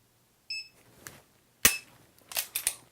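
A pistol snaps through dry fire trigger practice, with sharp isolated clicks spaced unevenly over three seconds and one short electronic beep from a shot timer near the start.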